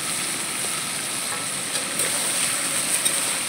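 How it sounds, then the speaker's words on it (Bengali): Fish heads fry in oil in a pan, destined for a greens dish, with a continuous close sizzle and faint crackles and stirring scrapes rising toward the end. "এই দেখো শাকের জন্য মাথা ভাজা ভাজা হচ্ছে"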